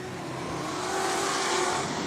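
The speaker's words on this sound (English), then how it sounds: "down the back straightaway. The first car is Gary Stacey" Race cars roar down the back straightaway at Gympie Speedway, a broad, loud engine drone that swells slightly as they pass, heard from the stands without talk.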